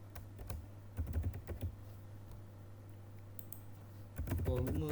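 Keyboard keys tapped in short bursts while a file name is typed on a computer, with close, crisp clicks clustering at the start and again near the end over a steady low hum.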